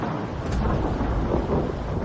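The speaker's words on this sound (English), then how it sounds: "Storm's coming in. Yeah, got thunder and lightning coming in." A low rolling rumble of thunder from an approaching storm, continuous and steady with a faint wash of rain and no voices.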